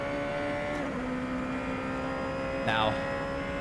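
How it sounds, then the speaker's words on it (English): A URD JT5 Super GT car from 2021 in a sim racing game, its engine holding a steady high drone, then a quick burst of downshift blips near the end, with a voice speaking briefly at the start. "those downshift sounds are absolutely sublime as they go into the tunnel there"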